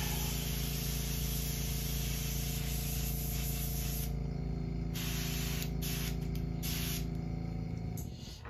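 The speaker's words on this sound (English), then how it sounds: "Clean this out of my airbrush real quick." An airbrush sprays steadily while being cleaned out after custom painting a swimbait, a continuous close hiss with brief pauses and bursts in the second half.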